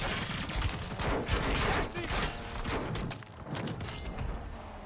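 Rapid submachine gun fire in the video game Warzone: dense, continuous bursts of shots, loud and close, with brief gaps between strings of fire.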